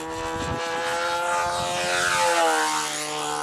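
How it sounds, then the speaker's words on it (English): A radio-controlled model airplane flies on a windy day, its propeller whine loud and steady, shifting in pitch as it passes close overhead, with no talk over it. "This is one good flying plane."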